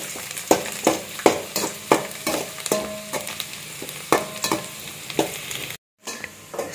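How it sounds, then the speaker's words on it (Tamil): Onion and garlic sautéing in oil, a low sizzle broken by a regular series of sharp spatula scrapes and knocks against the pan, close by, with a brief cut to silence near the end. "பூண்டு அது வந்து எண்ணெயிலேயே வதக்குறாங்க நல்லா"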